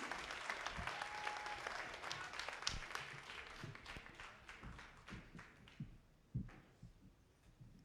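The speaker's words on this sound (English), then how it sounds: "Clapping's fabulous, but these guys need to hear you scream." Applause from the crowd at a youth rock music competition semi-final, faint and distant clapping with heavy thumps scattered through it, gradually thinning toward the end.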